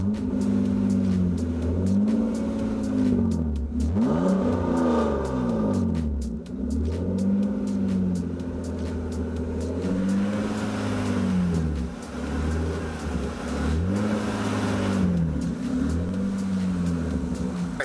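A BMW E36 with a spark and coil problem drives and accelerates. Its engine rumbles loudly and close by, rising and falling through repeated rev sweeps as it pulls through the gears.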